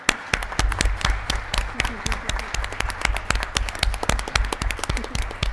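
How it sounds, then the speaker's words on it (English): A school board meeting audience claps for two students, a modest group with crisp, distinct individual claps over a low background hum, steady throughout. "Let's give them another round of applause."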